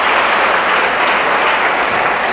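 Sustained clapping from a group of students at a cyber security awareness workshop, loud and dense for a couple of seconds with no talk over it.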